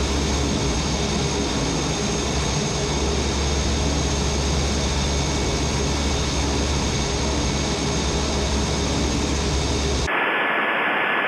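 Steady, loud drone of a small propeller plane's engine and prop heard from inside the cockpit, a dense unbroken roar that cuts off abruptly near the end.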